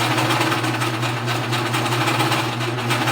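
A sewing machine stitching a blind hem runs steadily and loudly with a fast, even mechanical whir and rhythmic needle chatter, heard up close with no talk.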